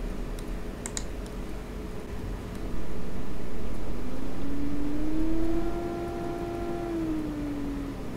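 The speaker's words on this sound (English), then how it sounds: "that noise you hear sometimes is our data collection computer" A data collection computer in a weather forecast studio lets out a whirring whine that rises, holds steady for a few seconds and fades, over a constant low room hum.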